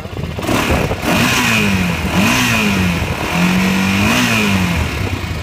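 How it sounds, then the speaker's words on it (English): A 2001 Honda 400EX ATV engine runs close by, a loud continuous idle with several rising and falling revs, each swell held briefly before dropping back. "nice running motor"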